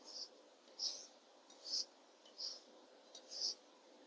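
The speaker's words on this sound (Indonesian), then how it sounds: "Terus kita gosek sisi kasar 3 kali. Sisi halus 3 kali." A blade is rubbed back and forth on the rough and smooth sides of a sharpener, giving a series of soft, rhythmic scraping strokes, evenly spaced and quiet, with no talking.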